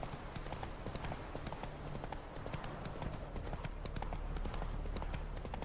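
Horse hooves clip-clop steadily through The Witcher 3: Wild Hunt, a dense continuous trot sitting loud and close over game ambience, with no talking over it.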